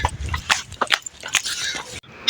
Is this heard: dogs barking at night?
yes